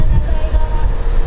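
A JR West DEC741 track and electrical inspection train, running on JR Kyushu lines, passes with a loud, close, low rumble that holds steady for a moment.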